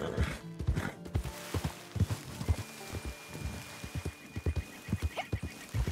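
A horse walks along in Red Dead Redemption 2, its hooves striking in a steady, close clip-clop rhythm of low thuds with a faint creak of tack and a thin background tone.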